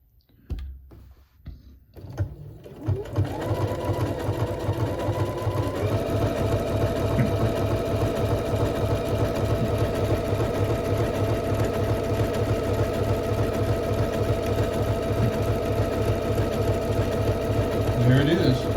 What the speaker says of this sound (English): We're going to see how the back stitch works on this.